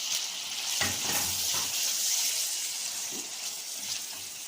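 Liver frying in a pan is stirred and turned, a steady bright sizzle with soft scraping and clinking stirs breaking through at intervals, close and moderately loud.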